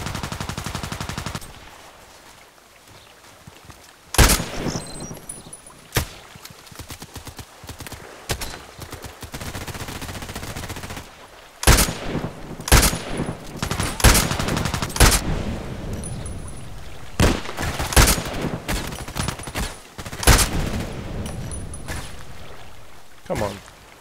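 Sharp sniper rifle shots crack out one at a time, loud and well spaced, in the online shooter Contract Wars on a lighthouse map, with hoofbeat-like clatter and a voice talking between them.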